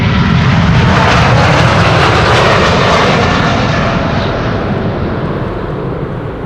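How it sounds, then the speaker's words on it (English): A 20-year-old KLM Boeing 777-200ER jet roars past close by at Schiphol Airport, a loud, sustained broadband engine rumble that fades slightly as the airliner moves away. "the next engines to pass us by will be from this 777-200 going to Minneapolis."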